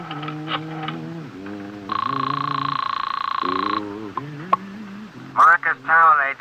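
A telephone in a radio drama: a steady electronic ringing or buzzing tone runs for about two seconds between stretches of talking, followed later by brief clicks and bursts of voice.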